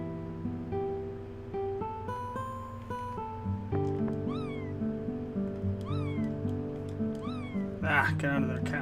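Repeated short cat meows from the video game Chrono Cross, four rising-falling cries spaced about a second apart, heard over steady game music with a brief clatter at the end.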